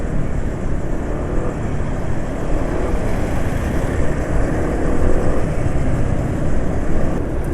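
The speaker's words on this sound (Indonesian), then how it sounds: "suara mesin sudah kasar ya, sudah kasar, sudah nggak halus lagi" A car engine with worn, rough-running oil drones continuously at close range, a low steady rumble with slight rises in revs and no talk over it.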